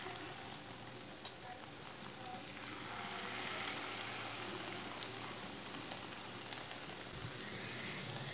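Leftover roti tikkis frying in hot oil, a steady dense sizzle and crackle filling the whole clip with no talk.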